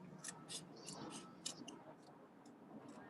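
Scissors snipping through paper card for a gold Christmas card, a series of quick, crisp cuts close up and fairly faint, with soft handling noise between snips.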